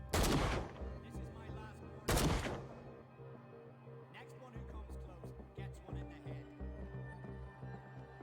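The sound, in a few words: gunfire from a gun in the video game Call of Cthulhu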